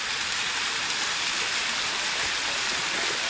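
A waterfall pours in a steady, dense hiss of rushing water, constant and fairly close, with no voices over it.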